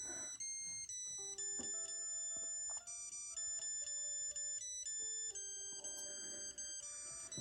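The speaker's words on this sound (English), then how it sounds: "So that's it, ringing up an alarm." An Owlet Smart Sock 3 baby monitor sounds its alarm, a repeating electronic melody of bright tones cycling steadily and clearly with no voices.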